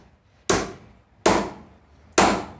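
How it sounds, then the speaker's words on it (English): A heavy hammer, around two to three pounds, strikes a cold chisel to cut metal: three sharp, loud metallic whacks spaced under a second apart, each ringing briefly before decaying into quiet, with no talking. "important thing is to have a good strength on the hammer"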